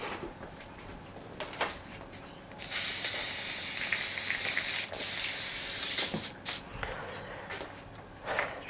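Airbrush spraying a quick rinse, short hissing puffs followed by a longer steady spray and several more brief bursts of air and liquid, close and clear.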